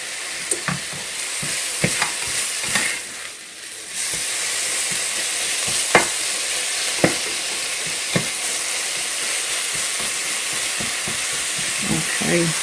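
Spinach and prosciutto sauté in a pan with a steady close sizzle and hiss, broken by frequent clicks and scrapes of stirring.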